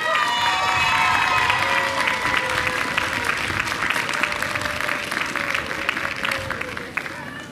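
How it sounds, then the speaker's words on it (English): A press-event crowd gathered for a New York City schools announcement breaks into sustained applause with some cheering, a voice briefly carrying over the clapping at the start before the applause slowly thins. "Let's give him a round of applause, too"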